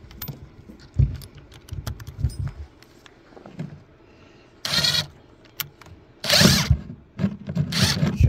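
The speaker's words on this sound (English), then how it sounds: "Drill a hole." Short bursts of a power drill spinning up while drilling a hole during a Minn Kota Terrova 24-volt trolling motor install, interrupted whirs with clicks and handling noises between them, fairly close and moderately loud.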